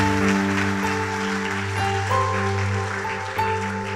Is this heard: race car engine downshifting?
no